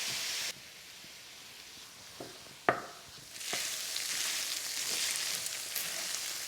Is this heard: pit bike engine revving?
no